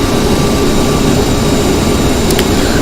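Bombardier CRJ jet engines hold at steady throttle in a flight simulator, a loud continuous broadband roar with a constant whine and no break.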